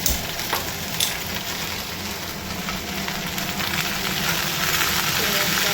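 Spiced prawns warming gently in a pan make a continuous close crackle and hiss, with a few faint clinks near the start.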